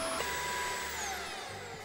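A vacuum running in the video game Kill It with Fire, a steady close whirring drone with a shifting whine, alone with no talk.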